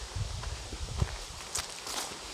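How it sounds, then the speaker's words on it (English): A horse walks along the roadside, its hooves producing soft, uneven clip-clops at a moderate distance, fairly quiet against outdoor background noise. "There's a horse up there."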